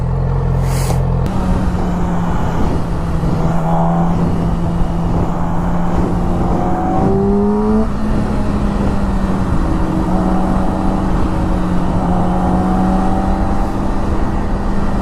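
A Subaru WRX climbs onto a freeway at about 40 mph, its engine a steady close drone that swells and shifts pitch midway, with road noise throughout and no talking.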